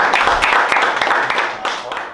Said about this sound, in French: Donc pour aussi vous applaudir.